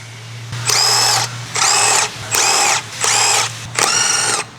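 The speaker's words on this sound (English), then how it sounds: "Using the electric impact wrench with the large 19mm deep socket, remove the wheel lug bolts." An electric impact wrench with a 19mm deep socket removes wheel lug bolts on a 2015-2018 Ford Fusion in five loud, close, evenly spaced bursts of whirring and hammering, each roughly half a second long, over a low steady hum.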